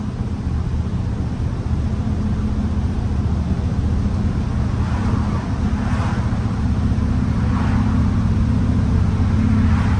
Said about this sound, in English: this bus handles real good on the road and everything